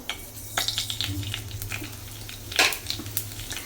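Cumin and mustard seeds crackle and pop in a couple of spoons of hot oil in a pan, a steady close sizzle broken by scattered sharp spits and one louder burst, with no voices.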